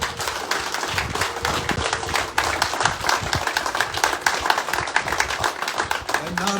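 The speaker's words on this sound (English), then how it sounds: "Roger Gorman needs to be thanked with a round of applause." A round of applause at a veterans home memorial dedication ceremony, steady dense clapping from a crowd of dozens, sustained and fairly loud throughout, with some voices mixed in.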